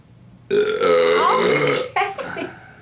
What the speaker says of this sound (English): I have to burp because of that beer I'm drinking.